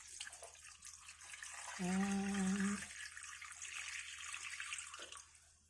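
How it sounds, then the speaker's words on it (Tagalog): Water is poured into a cooking pot of fish paksiw with chili, a short gurgling pour rising in pitch for about a second amid quiet kitchen background; a brief spoken word is heard. "Ilagay natin dyan ang tubig, guys."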